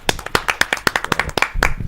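Audience at a Hindi kavi sammelan poetry gathering claps for an arriving poet: a short, sharp run of hand claps, close and fairly loud, with a few heavier thumps near the end.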